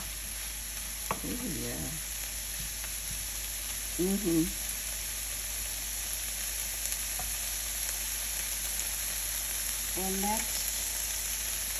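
Bacon sizzles and fries steadily in a pan, a constant hiss running throughout while a speaker makes a few brief remarks over it.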